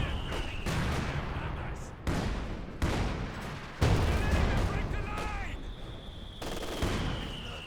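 Artillery barrage from ZiS guns in the video game Company of Heroes 2 plays as several heavy, sharp booms with rumbling tails across a dense battle din, with whistling shells and faint voices under it.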